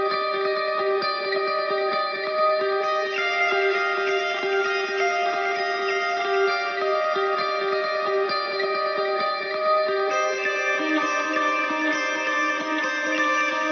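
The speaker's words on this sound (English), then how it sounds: "Let's go over to the clean guitar track here. It sounds like this." A clean electric guitar track from a metal mix plays sustained, shimmering chords that change slowly and evenly, processed with heavy compression and reverb, heard alone.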